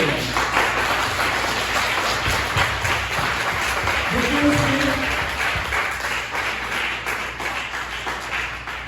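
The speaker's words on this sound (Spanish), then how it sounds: "¿Por qué no le dan un aplauso al Señor por su obra?" A church congregation at a Sunday service applauds together, a dense wash of clapping that holds steady and slowly fades, with a brief sung or voiced tone rising through the middle.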